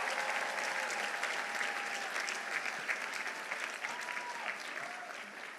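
Steady crowd applause at a graduation commencement ceremony, dense clapping from a large audience heard at a moderate distance, with a few faint cheers mixed in.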